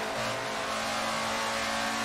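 A race car engine in the video game Assetto Corsa holds high revs with a steady, loud, buzzing drone and a slight rise in pitch. It plays alone with no voices.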